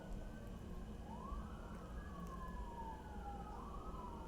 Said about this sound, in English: what's with all the sirens all of a sudden?